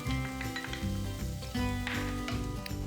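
Green peas stir-fried in bacon fat with bacon and eggs for fried rice sizzle loudly in a pan, with a spatula stirring and scraping and occasional clinks of metal.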